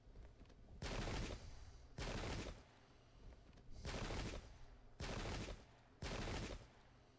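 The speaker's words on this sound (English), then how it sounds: "is that enough shooting from them?" Musket volleys ring out in the Pike and Shot strategy game, set in the Great Turkish War: five loud, broadband bursts about a second long each, spaced at roughly one-second intervals over a steady low battlefield rumble.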